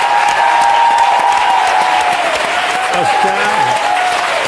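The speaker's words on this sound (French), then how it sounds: "Je demande à applaudir Michou et Oscar" Loud, steady applause from a French TV variety show studio audience for the cabaret hosts Michou and Oscar, with a voice speaking over it and sustained music tones beneath.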